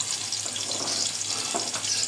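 Garlic sizzles in hot oil as a tempering for a small-fish chorchori curry, a continuous close hiss throughout the short moment.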